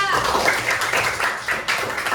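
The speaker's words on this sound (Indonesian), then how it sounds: "Kurang semangat lagi, tepuk tangan lagi untuk Najwa." A classroom of pupils claps for Najwa, a dense patter of many hands going on steadily and close by, with some voices mixed in.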